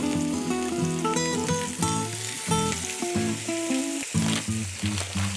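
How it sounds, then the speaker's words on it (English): Seasoned chicken breast searing in a hot cast iron pan, a continuous crackling sizzle that runs throughout, partly masked by loud tonal music playing over it. "We're just going to kind of get a nice quick sear on that."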